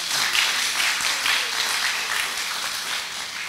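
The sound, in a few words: audience applause for debaters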